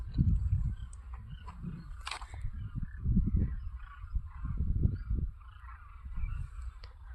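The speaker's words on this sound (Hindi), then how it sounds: "और चिड़िया की आवाज़ आप सबको सुनाई दे रही होगी।" Birds chirping in a village field, faint high calls drifting in the background behind low rustling handling noises and soft thumps close by.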